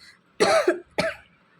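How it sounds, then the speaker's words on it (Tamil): Two harsh coughs, close and fairly loud, the first longer and doubled, the second short, with quiet between them. "சாரி ஃப்ரெண்ட்ஸ் கொஞ்சம் இருமல் வந்துச்சு"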